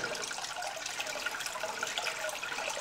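Water pouring steadily into an aquarium tank, a continuous close rushing and splashing that stays even from start to finish.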